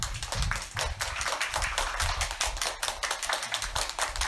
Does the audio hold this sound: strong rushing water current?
no